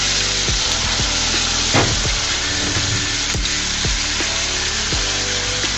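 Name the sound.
potatoes being stirred and fried in a pan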